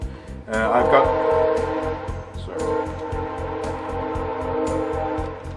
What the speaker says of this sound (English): I guess we've got the train